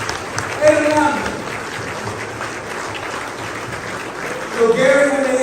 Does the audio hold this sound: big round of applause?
yes